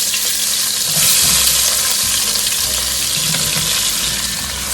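Green chillies and onions hiss in hot oil for a Bhai Veetu style mutton biryani, a loud, constant sizzle with faint stirring underneath.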